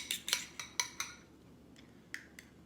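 Egg yolks being beaten in a bowl for a Southern lemon meringue pie, a quick run of sharp clicking utensil strikes against the bowl, then a pause and a few more taps, close and alone.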